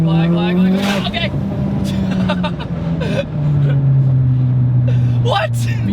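Modified Mitsubishi Evo, around 825 hp with aftermarket cams and a turbo, heard from inside as the engine revs and drones steadily with lag before boost, loud and close, a voice talking over it.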